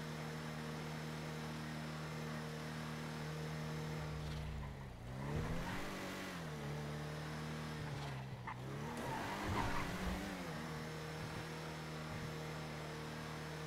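Car driving in a video game with engine revving and tires squealing, the motor drone rising and falling through two skid-like dips, steady and fairly close with no talk.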